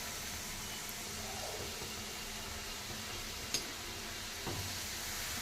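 Ready-made French fries deep frying in oil, a faint, even hiss of bubbling oil at a distance with a couple of light clinks of a utensil, no voices.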